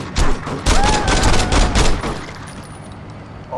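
Gunfire in the video game Saints Row: a rapid flurry of loud, close shots in quick succession for about two seconds, then tapering off into quieter background noise.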